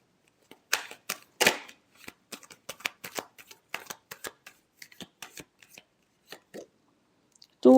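Tarot cards are shuffled by hand in a quiet room, a series of crisp riffling bursts and soft slaps with short pauses in between, close and clear. A voice cuts in at the very end.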